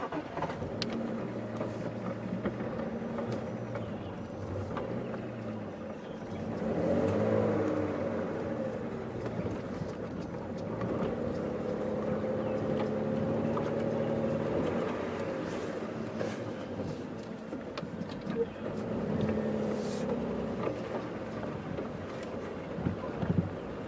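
A safari Land Rover's engine drones steadily at close range for the whole stretch, swelling briefly and then holding an even, rumbling tone with light wind noise and no talk.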